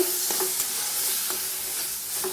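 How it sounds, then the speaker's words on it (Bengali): Spices for a fish curry fry with a little water in a pan, giving a steady close sizzle and hiss broken by a few soft stirring scrapes. "ভালো করে এইভাবে একটু আমি কষিয়ে নেব"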